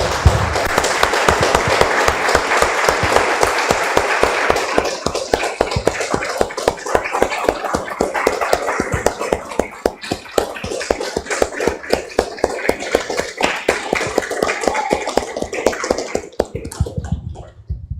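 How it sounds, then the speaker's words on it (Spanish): A church congregation breaks into sustained applause during a Spanish-language service, dense clapping filling the room for about eighteen seconds before thinning and fading out near the end. "Damos un aplauso, hermanos, al Señor."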